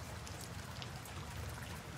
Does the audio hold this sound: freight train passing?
no